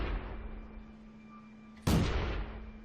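A single loud, booming tank cannon shot in World of Tanks from a BT-SV tank, the blast hitting abruptly after a steady engine hum and rolling off with a short decaying rumble.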